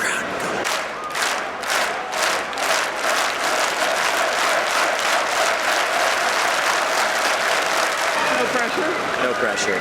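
Large crowd at the Wacken metal festival in Germany clapping and cheering in a dense, continuous roar, with rhythmic claps pulsing early on and voices talking nearby.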